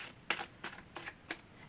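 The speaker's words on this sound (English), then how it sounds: "One more shuffle." Tarot cards shuffled by hand, four or five short papery riffles in quick succession, soft and close with quiet gaps between.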